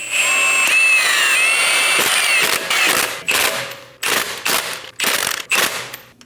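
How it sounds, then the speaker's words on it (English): A power tool rattles as it snugs down the wheel lug nuts on a 2011–2027 Dodge Durango 5.7L V8: one long buzzing run, then several short, sharp bursts with brief gaps between them. "Snug the lug nuts down."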